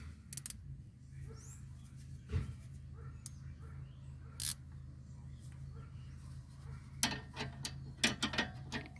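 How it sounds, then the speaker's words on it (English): A spanner tightens the stabilizer link bolt on a 2014 Honda Vezel RU3 Hybrid, giving scattered sharp metallic clicks and ratcheting ticks over a low steady hum, a quick cluster of them toward the end. "put the spanner on and tighten as much as we could get"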